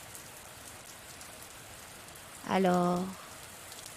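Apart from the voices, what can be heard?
rain falling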